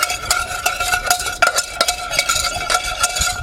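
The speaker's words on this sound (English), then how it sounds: "And start to whisk that butter and flour together." A whisk beats butter and flour together in a pan for roux, a brisk rhythmic series of metallic taps and scrapes, close and loud with no talk.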